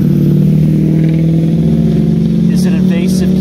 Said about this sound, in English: right here over the sound of that revving engine